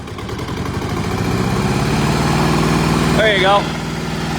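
Massey Ferguson 132 tractor engine idling steadily up close, then revving briefly to a higher pitch before settling back, with someone talking over it.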